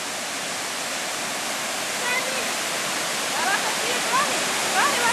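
A waterfall in the Serra do Rio do Rastro roars as a steady, loud, broadband rush of falling water. Faint chirps rise through it near the end.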